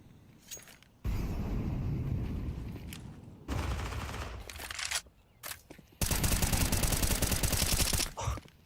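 Rapid bursts of video-game gunfire from a Counter-Strike pro league match, loud and dense, in several sustained volleys separated by brief quieter gaps.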